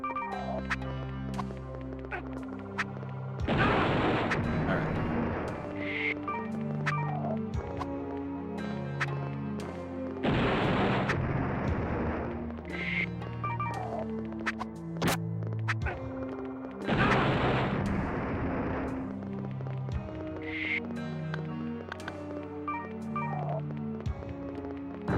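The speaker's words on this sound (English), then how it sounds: "It's grenades." Grenades explode in the PlayStation game OverBlood 2, landing as three loud, widely spaced noisy blasts over a looping game soundtrack.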